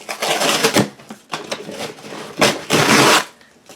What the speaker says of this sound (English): so why don't we just cut the box